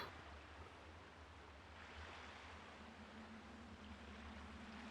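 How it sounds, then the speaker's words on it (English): Ocean water from geysers surrounding a base camp in LEGO Fortnite Odyssey, heard as a faint, steady wash of rushing surf with no talking. "I think that ocean water noise is because there's like geysers surrounding this place"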